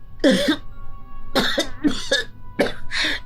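A series of close, harsh coughs comes in several bursts, with short pauses between the fits.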